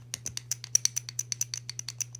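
Loose rivets on a Yamaha R1 clutch boss give a rapid run of about twenty light metallic ticks and rattles, close and crisp over a low steady hum, with no talk.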